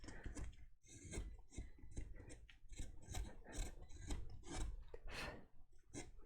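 Someone smooths the surface of a hand-carved wooden figure with short, rhythmic scraping and rasping strokes. The scratchy rubbing repeats steadily and close by, with brief pauses between the strokes.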